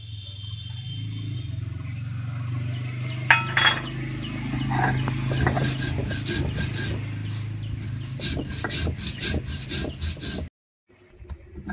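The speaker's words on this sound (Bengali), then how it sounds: "জিরে আর শুকনো লঙ্কাটা আমি একসঙ্গে বেটে নেব" Cumin seeds and dried chillies ground together on a stone make a steady, close rasping scrape with rhythmic back-and-forth rubbing that grows grittier before stopping abruptly near the end.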